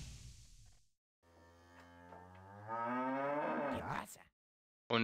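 Cattle moo in the video game Jagged Alliance 2: a long, loud, tonal lowing call rising in pitch, then a short pause and the start of another call at the end.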